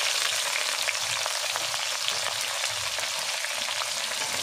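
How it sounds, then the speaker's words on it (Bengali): Chopped onions frying in hot oil for a duck curry, a steady, dense sizzle with crackling pops running evenly throughout, close and fairly loud with no talking. "এবার দিয়ে দেবো কুচিয়ে রাখা পেঁয়াজ"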